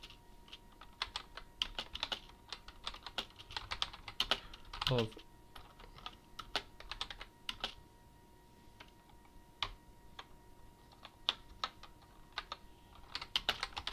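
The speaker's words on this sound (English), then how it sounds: "you can listen to my lovely mechanical keyboard." Keys on a mechanical keyboard clack in quick, irregular bursts with short pauses, close and fairly faint, as someone types during a racing game, with a few louder rattling presses.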